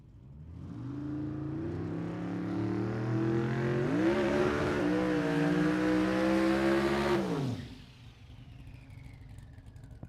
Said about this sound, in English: Turbocharged 4-cylinder for Jamie